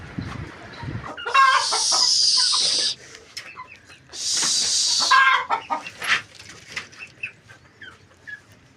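Chickens cluck close by among a flock, with two long bursts of broad rustling, like flapping wings or scattered feed, between the calls.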